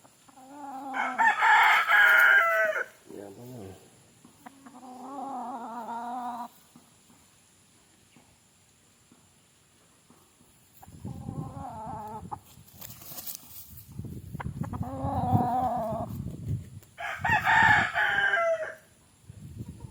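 Boston roundhead gamefowl roosters crowing at a farm, several loud drawn-out crows from nearby birds separated by pauses, with some clucking and other low animal calls in between.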